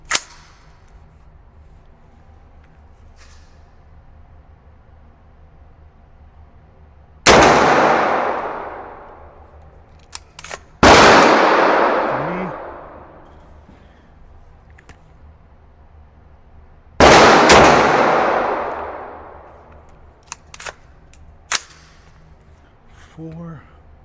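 Three loud, sharp gunshots from a home-built 300 Blackout rifle, each with a long decaying echo, fired several seconds apart outdoors amid faint clinks.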